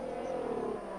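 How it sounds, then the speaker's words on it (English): A Haas Formula 1 car's engine in an F1 racing video game at the French Grand Prix: a steady, buzzing high-revving drone held for a moment without any voices. "that's the Haas. It sounds weird. I don't like the Haas's sound."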